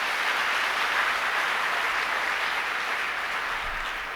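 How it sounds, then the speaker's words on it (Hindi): Sustained applause at a large All-India Bhagavad Gita convention, welcoming a 91-year-old guest: dense, even clapping from a big audience holds at a steady loud level throughout, with no talking over it. "एक बार ताली तो बजा सकते हैं।"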